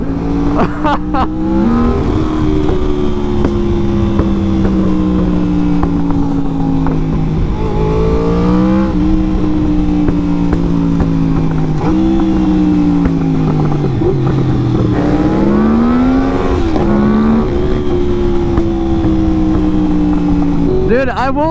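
A vehicle engine roars close by, its pitch climbing through several gear shifts as it accelerates, with people talking over it.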